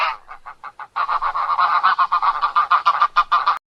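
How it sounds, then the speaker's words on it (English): A goose honks in a rapid string of harsh, nasal calls, loud and close, speeding into a dense burst before stopping abruptly. "goose"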